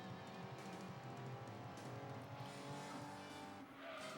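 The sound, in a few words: car oversteering and tires skidding in Gran Turismo 2 video game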